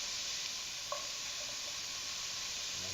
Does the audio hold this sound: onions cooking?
yes